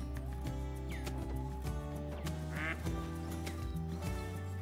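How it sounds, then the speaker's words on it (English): Several ducks quack close by in the hunting game Call of the Wild, their repeated calls layered over steady ambient game music and outdoor background. "Ducks just landed right beside me."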